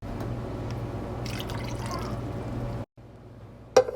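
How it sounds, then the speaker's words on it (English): Beef broth pours steadily into a pot with a constant liquid trickle and splash, then stops abruptly, followed by quiet and a sharp clink at the end. "Just pour it in to cover mostly everything."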